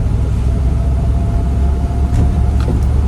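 A 1990 Land Rover 90 V8 County station wagon lugging uphill in fifth gear, heard as a loud, steady low engine rumble with road noise throughout, no speech.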